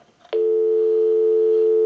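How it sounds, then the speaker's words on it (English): A steady continuous dial tone hums on a Spirit of St. Louis field telephone line, starting abruptly after a faint click and holding loud and unbroken to the end. "We'll go ahead and give you some dial tone"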